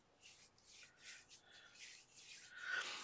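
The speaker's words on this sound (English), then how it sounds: "now we're gonna get rid of all this glue on my fingers by rubbing my fingers together." Glue-covered fingertips rub briskly together in a series of soft, dry, scratchy strokes, faint and close, repeating about every half second with no talk.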